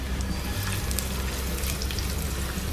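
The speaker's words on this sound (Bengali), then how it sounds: "নেড়ে পেঁয়াজটা হালকা বাদামি করে ভেজে নিচ্ছি" Chopped onions frying in about three tablespoons of hot oil, a loud continuous close sizzle with light bubbling crackle throughout.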